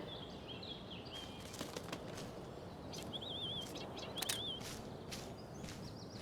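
Bird in Life is Strange: Before the Storm, with soft flapping wingbeats and short chirps and whistles over a low outdoor hiss.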